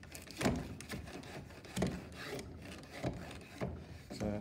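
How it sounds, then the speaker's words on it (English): A router plane cutting timber while a woodworker makes a box for an oil stone, giving rasping wooden scrapes in several separate pushes about a second apart, close up and with no talk. "So as you're cutting, you're kind of pushing down into your timber."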